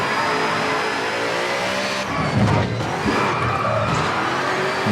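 A V-Rally 4 rally car engine revs hard and is blipped on the throttle, up close and loud, with a brief tire squeal midway and no voices over it.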